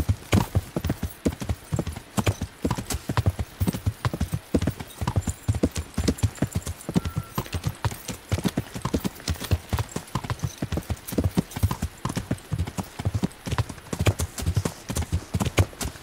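Rapid, steady clip-clop of galloping horse hooves in the video game Kingdom Come: Deliverance, loud and close, repeating in a quick even rhythm throughout with no pauses.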